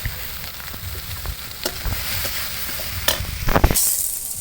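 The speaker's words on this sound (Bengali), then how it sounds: "পেঁয়াজটা ব্রাউন কালার করে ভেজে নিয়েছে" Chopped onions fry in hot oil in a pan, a loud steady sizzle and crackle broken by sharp stirring scrapes and clinks near the end, with no talk.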